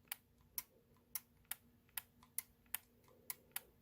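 A cleaned Nintendo Switch Joy-Con stick gives sharp, crisp clicks, about ten evenly spaced presses in a quiet room, close and distinct.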